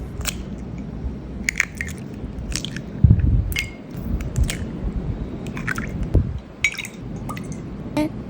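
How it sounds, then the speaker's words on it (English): Five bananas being mashed for a banana marble cake, making soft, wet squishing and squelching sounds in an irregular rhythm, close up, with occasional sharper clicks of the utensil against the bowl. "Now mash 5 bananas and crack 3 eggs."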